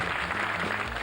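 A studio audience applauds throughout on a live British morning TV show, a steady, dense wash of clapping with no voices heard.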